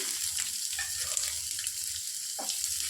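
Sliced onion and a dried red chili split in two fry in hot oil, a steady close sizzle with faint stirring scrapes and no talking.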